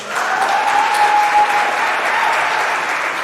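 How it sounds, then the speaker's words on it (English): Applause from an audience at a school long service awards ceremony, a steady dense patter of many hands clapping together that holds evenly for the whole stretch. "Give her a round of applause."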